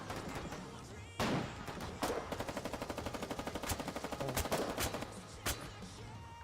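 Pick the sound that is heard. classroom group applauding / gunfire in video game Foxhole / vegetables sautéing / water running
gunfire in video game Foxhole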